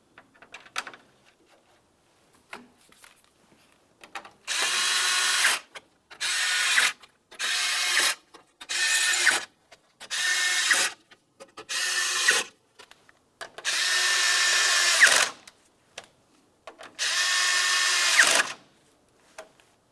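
A power tool drives eight 5.5mm mounting screws into a fog light bezel on a 2009-2019 Ford Flex, repeated close bursts of whirring and ratcheting, each lasting about a second, separated by short quiet pauses.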